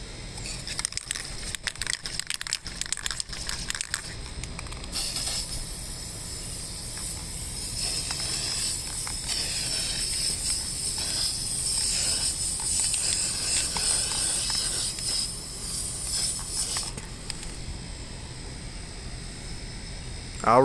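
A continuous, close hiss of clearcoat spray paint being applied to car rims runs steadily for about twelve seconds, preceded by a few rattling clicks of the aerosol can and ending abruptly.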